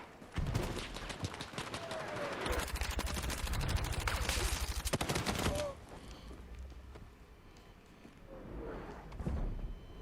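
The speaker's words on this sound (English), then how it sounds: "I put so many bullets into that guy and he just walked away from it" A QBZ-192 rifle fires in the shooter game Battlefield 6: long, rapid automatic bursts at close range, then quieter scattered shots and faint battlefield noise.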